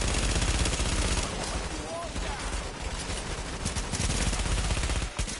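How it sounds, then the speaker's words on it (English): Dense, continuous automatic gunfire from an enemy shooting at the player in The Division, loud and close and layered with rapid rattling bursts, with talking underneath. "Why is he shooting at me?"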